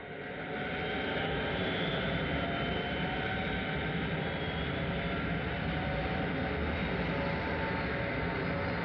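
A Stratajet airliner on departure gives a loud, steady jet roar, a dense broadband rumble and hiss holding level throughout with no voices over it.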